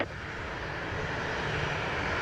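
A large airliner lands on runway 25 at Montego Bay, Jamaica. Its engines give a loud, steady roar that swells slightly and holds for the whole stretch, heard from nearby with no talk.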